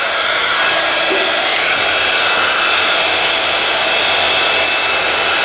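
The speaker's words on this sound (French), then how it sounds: "avec un pistolet à chaleur, comme on appelle ça, on va faire fondre le plastique" A heat gun blows a constant, loud, even roar of hot air while melting plastic during a homemade friendship notebook craft, with no pauses or talk.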